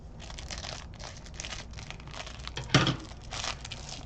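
Plastic diamond painting packaging crinkles and tears as it is cut open, close and continuous, with a louder crunch of ripping partway through.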